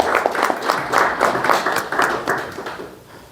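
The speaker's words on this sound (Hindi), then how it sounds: "हम सब ताली इनके लिए एक बार बजा देंगे" An audience at a National Youth Day gathering marking Swami Vivekananda's birth anniversary claps together in steady, dense applause that swells and ebbs before tapering off, with no voices over it.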